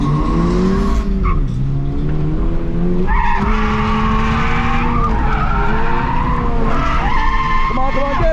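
A 2022 Subaru BRZ skids on a race track, tires squealing loudly in long wavering tones under a steady engine drone, with a voice talking over it.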